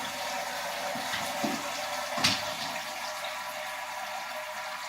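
Wort draining from a raised mash tun set on top of a boil pot during home brewing, heard as a steady, close trickle and rush of liquid with a few small splashes and no voices.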